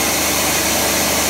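Benchtop craft bandsaw running without cutting: a loud, steady motor hum with an even, fast blade whir, close and continuous throughout the short stretch, with no talking.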